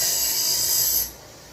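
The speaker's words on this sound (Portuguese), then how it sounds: "Agora esse excesso aqui eu passo na lixadeira." A sander grinds excess material off a part for a motorized bike, a loud, steady hissing abrasion that lasts about a second and then abruptly drops away to quiet.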